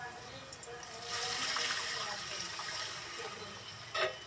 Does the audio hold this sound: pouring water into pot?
yes